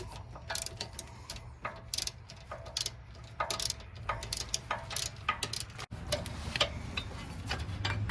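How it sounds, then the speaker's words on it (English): Ratchet clicking in rapid bursts while a brake caliper bolt on a 2011 BMW 528i is tightened during a right rear brake pad job, close and crisp, with short pauses between runs of clicks and no talking. "just tighten your bolt back up"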